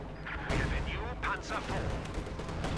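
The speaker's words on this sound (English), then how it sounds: "Lots of grenades going off there versus the conscripts." Grenades and stun grenades go off in a Company of Heroes 2 battle against Soviet conscripts, several dull blasts and cracks over a steady din of combat, with a commentator talking throughout.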